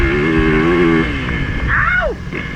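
A Yamaha YZF 450 four-stroke dirt bike engine drones loud and close while riding enduro, holding a steady pitch before dropping and then swooping up again, with wind noise throughout.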